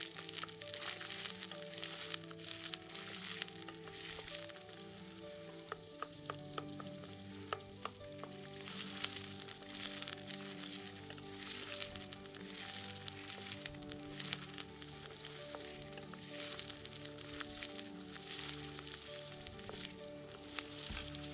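Onions frying in hot oil, a continuous crackling sizzle with occasional stirring knocks, steady and close throughout with a faint background hum and no talk.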